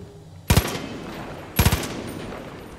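Gunfire in Far Cry 5 aimed at an object: two short bursts of rapid shots about a second apart, loud and close, each burst fading into a lingering echo.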